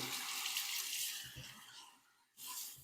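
Tap water rinsing a Mag T Alpha magnetic razor under a sink, a steady close rush of running water that dips briefly and then surges back.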